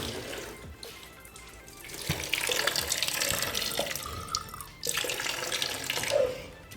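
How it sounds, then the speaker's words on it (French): Water runs steadily from a tap, a soft continuous splashing flow heard up close at low level with faint shifts in tone, and no talking over it. "on va éteindre l'eau"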